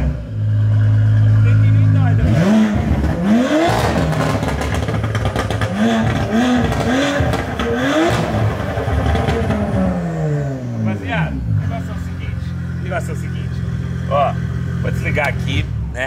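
The engine of a Porsche Panamera revs and idles, heard from inside the car while someone talks over it. The engine note rises and falls in several swells through the middle of the clip.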